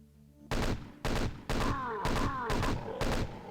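Chaingunner enemies in the video game Doom fire in rapid bursts, six loud blasts of rattling gunfire spaced about half a second apart, with whizzing projectile sounds trailing between later shots.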